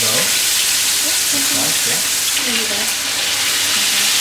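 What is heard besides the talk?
chicken drumstick sizzling in hot oil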